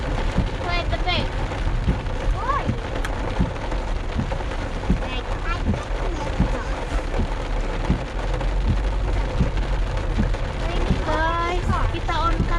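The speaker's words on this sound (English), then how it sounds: "Yeah, it's raining so heavy." Heavy rain pours steadily as a dense, constant roar, with occasional rumbles and brief chirping calls over it.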